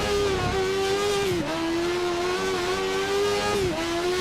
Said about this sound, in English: Car slowly drifting through.